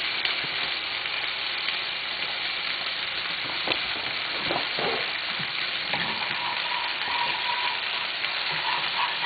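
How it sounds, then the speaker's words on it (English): A roux of butter and flour cooking in a pan gives a steady sizzle and crackle with occasional stirring scrapes, close and moderately loud, with no voices. "Once your butter is melted, you're going to add a little bit of flour to make a roux."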